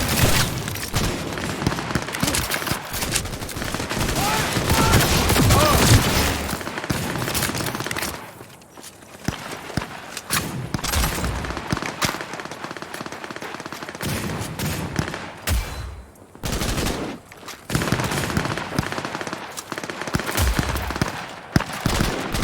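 Dense gunfire from the Cyberpunk 2077 video game, with rapid automatic bursts and booming shots that come in loud waves with short lulls between them.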